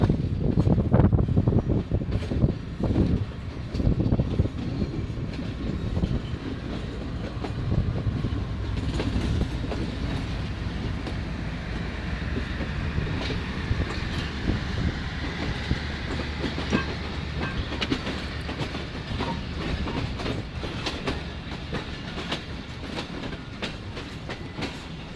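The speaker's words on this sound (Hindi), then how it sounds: "साइड पे भी कोई ट्रेन जो है वो डिपार्चर कर रही है" A passenger train departs from Hyderabad station with a steady rolling rumble and clickety-clack of wagons on the rails, loud and continuous, with some wind noise over the microphone.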